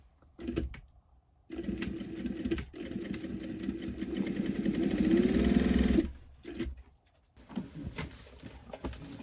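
A sewing machine stitches a pocket onto tote bag fabric, running in one steady, close whirring burst of about four seconds, with softer handling noises before and after.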